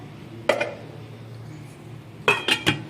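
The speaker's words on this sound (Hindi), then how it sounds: "बस अब इसको ढककर इसको पकने के लिए रख देंगे" A lid set onto a pot of beef bhuna gosht, giving one clink, then a quick run of three metallic chinks as the lid settles, over a quiet kitchen hum.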